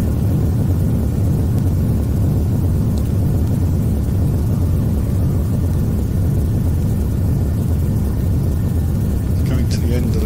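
An airplane rolls down a runway after landing in a flight simulator game, giving a continuous low engine and rumbling roar that stays loud and steady throughout.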